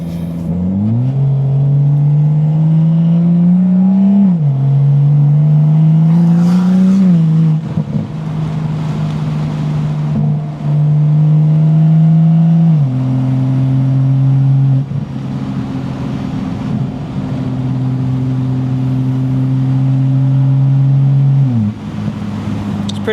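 A BMW M240i cabin fills with a loud, low engine and exhaust drone while driving, the tone climbing and dropping in steps as it shifts through gears, continuous and close.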